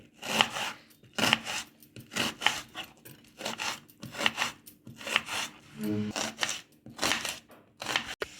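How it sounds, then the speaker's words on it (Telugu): Onions being chopped into small pieces with a knife on a board, a steady run of close, crisp cuts in quick bursts with brief pauses between them. "ఉల్లిపాయలు కూడా చిన్న చిన్న ముక్కలుగా కోసేసుకోండి"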